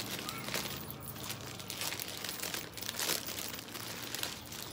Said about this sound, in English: I'm going to put in here the plastic that the stencil comes in.